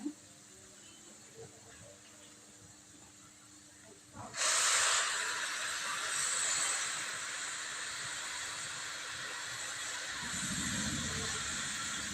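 Milk is poured into a hot pan of grated carrot frying for carrot halwa, setting off a sudden loud, broad hiss partway through that keeps sizzling steadily to the end.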